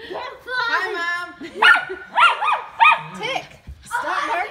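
A dog barks repeatedly in short, high yaps close by, mixed with people talking.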